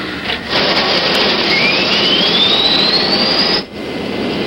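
A jet engine on an SST airliner spools up with a loud, broad roaring whine and a rising tone that sweeps steadily upward, then cuts briefly before the roar carries on.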